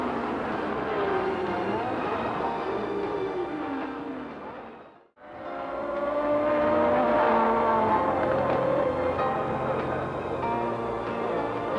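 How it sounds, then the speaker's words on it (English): Formula One race cars from 1978 roar past on a warm-up lap at reduced pace. One loud engine drone fades briefly to near silence, then a dense swell of overlapping engines returns and stays strong. "the drivers circle the track once at a reduced pace"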